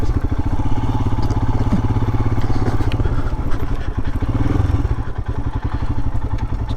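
Royal Enfield Himalayan motorcycle ridden off-road over bumpy dirt: a loud, close single-cylinder engine thumping in a fast steady beat, with clattering and knocks from the bike jolting over rough ground.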